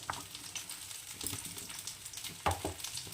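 Bori lentil dumplings frying in mustard oil in a kadai give a soft, steady sizzle with faint crackles and an occasional sharper pop, heard close and without any talk.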